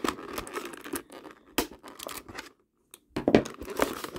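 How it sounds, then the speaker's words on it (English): Sellotape torn off toy packaging for a Godzilla vs Kong figure, a series of close, short ripping and crinkling bursts with a brief pause before a final louder tear. "They've used way too much sellotape."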